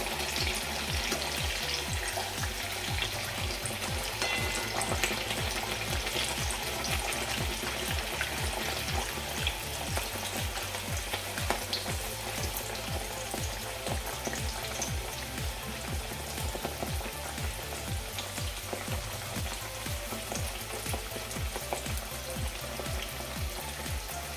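Wheat flour malpua frying in a pan over a medium flame, a dense, continuous crackling sizzle with a steady rain-like patter, close and even throughout with no talking.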